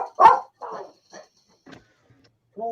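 Dogs barking in short separate bursts, a loud yap followed by several fainter barks and yips spaced apart, with quiet gaps between.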